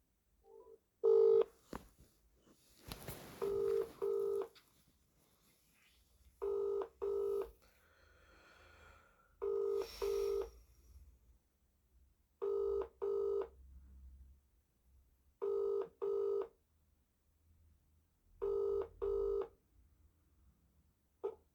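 A mobile phone number being keyed in as DTMF tones, paired beeps in quick groups repeating at steady intervals with short gaps between them, clear and close, no talk.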